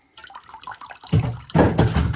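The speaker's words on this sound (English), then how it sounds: "And water always comes out super fast." Water rushes out fast and loud after a toilet fill valve is pulled from a running toilet, splashing into a catch container in two strong surges near the microphone.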